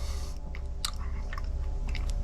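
Close, steady chewing and crunching of baked beans at a dinner meal, a continuous run of soft bites and mouth sounds over a low background rumble with no talk.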